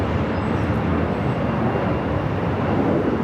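A Southwest Airlines jet arriving at LAX on its flight in from Sacramento gives a loud, steady engine roar throughout, heard close and with no talking.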